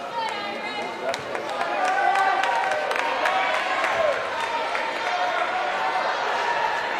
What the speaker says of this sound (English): No wonder the crowd's cheering with 2 Irishmen right up there.